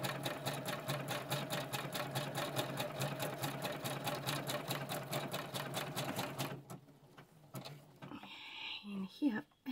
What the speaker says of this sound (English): I will try to keep my hands away from the sewing machine